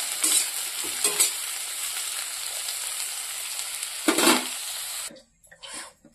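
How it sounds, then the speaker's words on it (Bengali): Potato pieces fry lightly in a pan, a steady close sizzle broken by brief scraping stirs, ending with a short quieter stretch and a few clatters. "এদিকে বসিয়ে দিয়েছি আলু ভাজার জন্য। আলুটাকে হালকা ভেজে নেব।"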